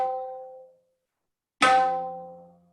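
Two separate tabla strokes, ge and na, ring out, each a resonant tap decaying over about a second, with a short silence between them.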